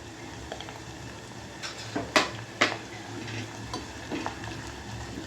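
Ginger, garlic and slit green chilies fry in a pot, giving a soft steady sizzle with a few sharp clinks of a utensil against the pot, fairly quiet and close.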